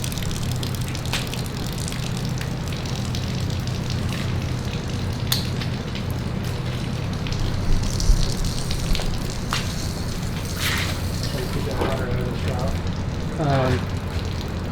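Pressure washer spraying water, a steady loud hiss and gush running close throughout, with a voice talking briefly under it near the end.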